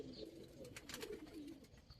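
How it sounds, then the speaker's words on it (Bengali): Giribaz pigeons in a loft give soft, low, rolling coos, faint and close, over a quiet background. "এগুলো বিটের কবুতর।"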